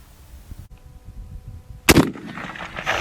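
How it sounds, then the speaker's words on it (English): A single loud, sharp shot from a Winchester lever-action rifle aimed at a steel target outdoors, a close crack followed by a brief rumbling echo and some faint rustling. "We'll shoot steel first, see if we can see where it hits on steel."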